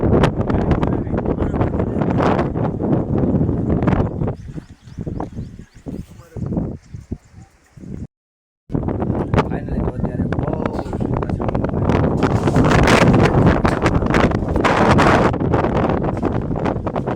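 Strong storm wind buffets the microphone with loud, roaring gusts, dropping away briefly midway before surging back even harder, while people talk over it.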